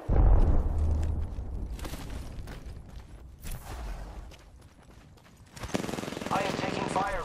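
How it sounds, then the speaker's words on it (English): Video game gunfire crackles in short, scattered bursts under a busy mix of game sounds and effects, with occasional heavier booms, loud at the start and fading into the background midway. "I am taking fire, friends."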